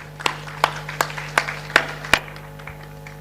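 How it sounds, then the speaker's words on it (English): Audience applause for a team at a debate competition finals, heard as six sharp, evenly spaced bursts of clapping at moderate distance over a steady hum, fading out after the last one. "One more round of applause for Team Maddox."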